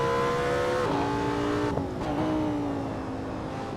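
A Lamborghini Sesto Elemento engine in the racing game Assetto Corsa, droning loud and close, then dropping pitch in a couple of quick downshift steps and settling lower with a brief blip between, with no voices.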